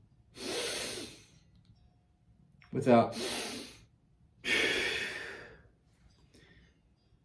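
Three slow, deep breaths are drawn and released in a breathing exercise, each a long, airy rush close to the ear, separated by short silences.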